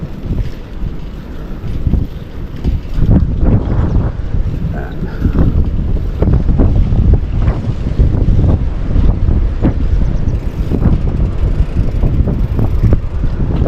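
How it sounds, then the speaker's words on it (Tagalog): Strong wind buffets the microphone in a continuous low roar on a seashell-strewn shore, gusting unevenly throughout, loud and close, with no clear talk. "medyo mahangin na"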